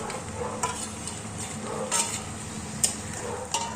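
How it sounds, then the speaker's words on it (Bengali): Chopped tomatoes added to fried onions sizzle quietly in a pan during preparation of Kolkata-style chicken biryani, with a steady low frying hiss and a few sharp scraping clinks of stirring against the pan. "এরকম পিস করে এই দুটো টমেটো আমি এর মধ্যে দিয়ে দেবো"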